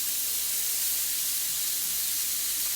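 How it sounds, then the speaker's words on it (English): Small lamb chops sear in a hot pan, giving a loud, steady, close hiss and sizzle that holds without a break, with no voices. "So basically just sear them in each side for like 2 minutes."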